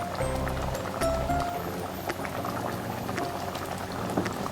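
Thick mango and jaggery mixture with a little ghee bubbling in a pan as it is reduced, a steady low burbling simmer with soft pops, close and continuous, no voices.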